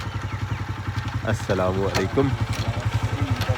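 A motorcycle engine idles nearby in the rain, its steady low putter running throughout while people exchange greetings over it.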